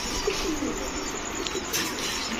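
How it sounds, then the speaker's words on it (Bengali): Dudh khaki giribaz pigeons, a male and female pair, coo softly in a low repeated murmur beneath steady background noise, with faint chirps nearby. "এখন দেখাবো দুধ খাকি একটা পেয়ার। এটা হচ্ছে নর, এই হচ্ছে তার মাদি।"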